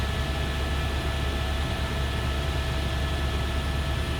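A small plane comes in to land at a wilderness camp, its engine and wind noise forming a loud, steady, broadband roar close by with no break.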